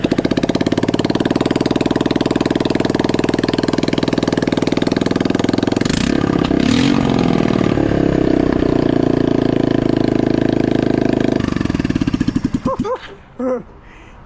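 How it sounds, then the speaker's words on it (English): A Kawasaki KLF 300C 4x4 ATV engine runs loud and close at a steady, rapid idle for about twelve seconds, with a brief rev midway, then sputters and cuts off near the end. "The engine started with no problem, guys."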